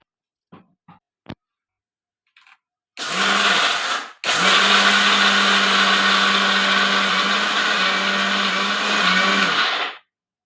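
Mixer grinder pulsing: a few small clicks, then two loud whirring bursts split by a brief gap, running steady before cutting off abruptly.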